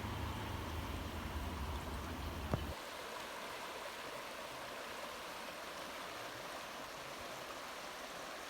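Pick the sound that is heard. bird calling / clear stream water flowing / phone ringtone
clear stream water flowing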